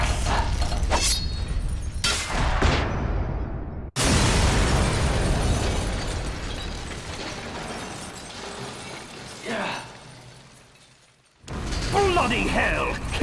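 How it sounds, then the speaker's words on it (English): A loud explosion tears apart Metal Gear Rex's radome, a sharp burst followed by rattling debris and mechanical clatter, with a second blast near the end. "He destroyed the Ray Dome!"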